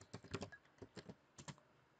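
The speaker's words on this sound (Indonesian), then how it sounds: "kita langsung saja mengetik perintahnya itu select" Quiet typing on a computer keyboard while entering a database query, a handful of light, close key taps in short irregular bursts with brief pauses between.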